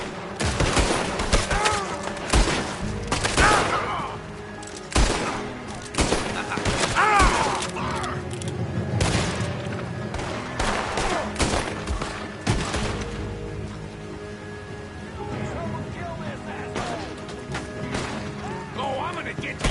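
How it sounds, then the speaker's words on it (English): Gunfire in the video game Red Dead Redemption 2: loud bursts of shots and rapid volleys crack repeatedly near the start and middle, thinning toward the end, with game voices talking between and over the shooting. "Now'd be a good time to shoot. Keep shooting."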